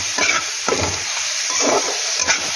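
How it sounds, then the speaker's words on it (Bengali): Spice paste being stir-fried in a pan, bursts of scraping and stirring roughly every half second over a constant low sizzle, with no voices. "মশলাটা হয়ে গেছে ভালো মতো কষানো।"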